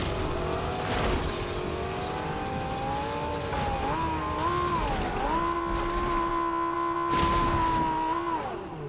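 A car is driven in the video game Fortnite, its engine holding a steady, rising hum that climbs and levels off as it accelerates, with tire noise and thumps, loud and close with no talk.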